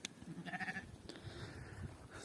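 Large fat-tailed sheep on a summer mountain pasture bleat in a couple of short, faint calls, with a soft outdoor background and no talk.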